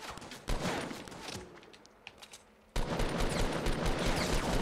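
A silenced SMG fires in the game Fortnite, with bursts of small muffled pops over a dense game soundscape, a brief lull in the middle, then the rapid firing resuming.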